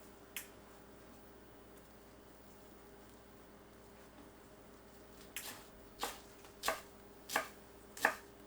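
Cilantro chopped with a knife on a board, one sharp chop followed after a pause by five more evenly spaced thuds, close and crisp over a faint steady hum.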